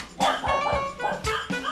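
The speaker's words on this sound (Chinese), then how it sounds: "哦，很多只狗狗" Several dogs barking at a fishing homestay in Taitung, loud close yaps and whimpering barks in quick irregular bursts, with little else beneath them.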